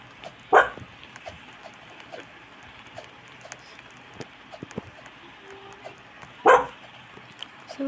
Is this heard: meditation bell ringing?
no